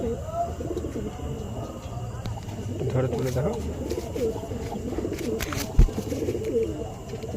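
Pigeons coo softly and repeatedly at close range while they are handled at an all-India pigeon flying tournament, with people talking over the birds.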